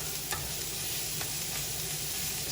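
Beef stroganoff ingredients browning in a pan, a steady soft sizzle of frying with a few faint stirring scrapes, fairly quiet and with no talk.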